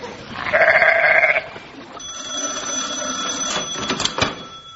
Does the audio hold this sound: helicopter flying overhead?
no